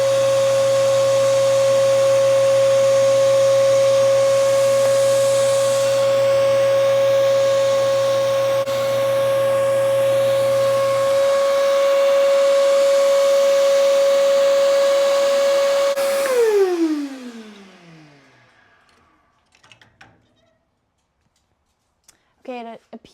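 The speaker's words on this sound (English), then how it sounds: "now we're just gonna turn the press on, turn the vacuum on, and hope I hit my lines" A drill press and shop vacuum run together while a hole is bored into a bowling ball, giving a loud, steady motor whine and rushing hiss that hold for about sixteen seconds, then wind down in a falling pitch into near silence, with a faint voice at the end.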